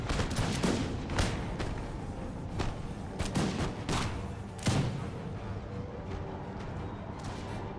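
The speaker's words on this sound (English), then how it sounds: "Let the Rangers fire into the sides of them." Musket volleys and scattered gunfire crackle through a video game battle of the American Revolution, with repeated sharp loud bursts over a dense, continuous din of distant shots.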